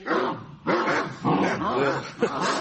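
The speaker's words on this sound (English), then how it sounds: "He's a great dog." A large dog in a radio comedy barks and yelps in about four close, loud bursts, with a whimpering, voiced quality and short gaps between them.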